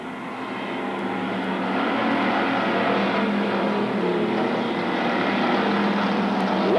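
Race cars circle a dry, slick dirt track at Magic City Speedway in Billings, Montana, a dense sustained engine roar that swells slightly and stays loud and continuous, with no commentary audible.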